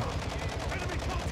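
Rapid bursts of gunfire from the shooter game DMZ, dense and loud, crackling continuously for the short stretch with no voices.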